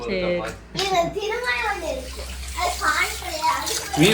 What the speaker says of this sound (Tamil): மீன் கழுவிட்டு இருக்காங்கல்ல